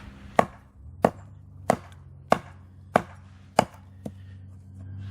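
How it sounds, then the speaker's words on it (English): A CRKT Jenny Wren compact tomahawk chops dry apple wood with seven sharp, evenly spaced thwacks about half a second apart, close and loud with no talking. "Heavy chopping, I was using dry apple wood."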